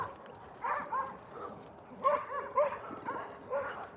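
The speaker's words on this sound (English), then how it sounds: "the dogs are barking, because that's what dogs do" Dogs barking in scattered bursts, several short woofs and yips spaced irregularly, moderately distant against a quiet indoor background.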